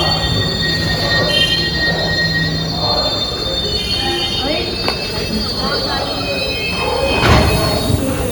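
The Ashokapuram–Kacheguda superfast express (12786) rolls toward Kacheguda railway station, a continuous rumble of wheels on rails with high metallic squeals and tonal whines, swelling near the end, while a voice speaks over it.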